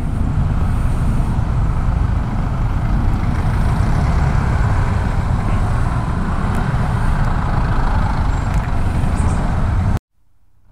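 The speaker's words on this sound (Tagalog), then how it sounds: "Grabe ang traffic, alas 3 ng hapon." Heavy afternoon road traffic in Lipa, Batangas, with trucks and cars giving a dense, continuous low engine rumble nearby that cuts off abruptly near the end.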